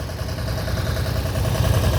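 A small tractor, its cab windows shattered by nearby fighting, idling with a steady low throbbing engine rumble, close and continuous throughout.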